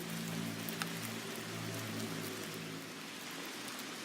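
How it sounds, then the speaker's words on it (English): Heavy rain pours outdoors on a farm, a steady broadband hiss of drops hitting surfaces that runs evenly through the whole stretch, close and fairly loud with no voices. "It is raining pretty hard"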